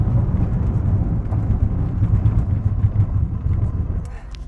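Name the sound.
Mercedes AMG GT accelerating hard from standstill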